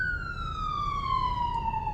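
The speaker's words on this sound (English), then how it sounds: "There's an ambulance just flying by, so sorry about that." Ambulance siren wailing as the vehicle speeds past, a steady high tone gliding slowly downward in pitch over a low traffic rumble, loud and continuous throughout.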